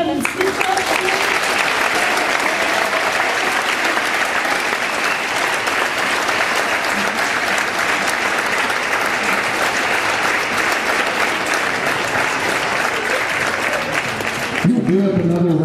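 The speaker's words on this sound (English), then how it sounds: "Let's give them a big hand and speak up." Loud, sustained applause from a concert audience honoring senior band members, a dense wash of clapping that runs unbroken for about fifteen seconds before cutting off, with a voice briefly speaking at the very end.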